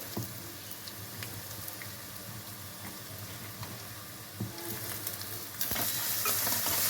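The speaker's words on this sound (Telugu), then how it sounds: "ఆయిల్లో ఫ్రై చేస్తాం." A paste of cumin, garlic and green chillies fries in hot oil for a bean curry, a steady close sizzle with stirring scrapes that grows louder near the end.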